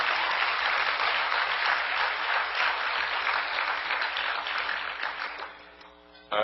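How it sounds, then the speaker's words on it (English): Clapping from a convention audience at the American Constitution Society national convention forms a thick, sustained wash that tapers off and then ends abruptly. "Give him a round of applause, please."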